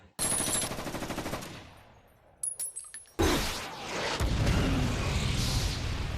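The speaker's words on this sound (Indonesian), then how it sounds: "Ada bunyi tembakan." Film gunfire during an ambush on stalled cars leaving a cemetery: a rapid automatic burst with crisp, closely spaced shots, a short lull with a few scattered cracks, then a loud, sustained roaring wash.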